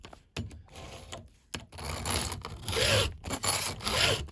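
Rough metallic rasping strokes repeat in an uneven rhythm, close up, with brief pauses between passes of a flat file across the chain teeth of a STIHL GTA 26 garden pruner.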